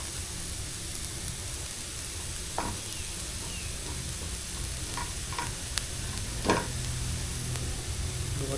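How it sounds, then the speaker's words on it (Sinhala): Shredded cabbage cooks in a pan for a chapati roll, a soft even sizzle with a few faint scrapes and clicks of stirring, quiet and close, no talk. "ගෝවා ටිකත් එකතු කරලා පොඩ්ඩක් කුක් කරගන්න"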